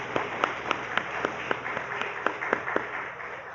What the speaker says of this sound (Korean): 오늘 찬양팀으로 섬긴 우리 친구들 우리 큰 박수로 한번 격려하겠습니다